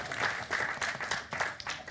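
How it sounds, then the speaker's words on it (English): A brief burst of audience applause at a science communication competition semi-final, uneven clapping swelling and dipping over two seconds. "It's worth a round of applause."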